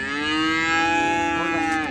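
A single long, loud cow moo, close by at the Sangola cow market in Maharashtra, holding a steady drawn-out tone for nearly two seconds.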